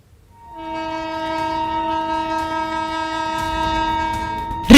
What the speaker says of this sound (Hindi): रेलवे ट्रैक पर शक्तिपुंज एक्सप्रेस पूरी रफ्तार से दौड़ी चली आ रही है। बार बार हॉर्न बजा रही है